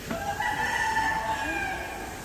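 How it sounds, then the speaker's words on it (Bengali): A rooster crows once in a long, drawn-out call, fairly close and clear, over faint background noise. "মুরগির ডাক শোনা যাচ্ছে, অদ্ভুত সুন্দর"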